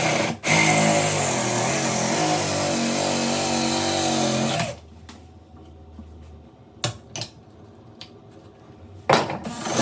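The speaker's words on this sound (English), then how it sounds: "And simply then, I can cut this through." A bamboo tube held in a V-clamp is cut with a power tool, a harsh, fluctuating buzz lasting several seconds before cutting off, then scattered knocks and clatters as the work is handled.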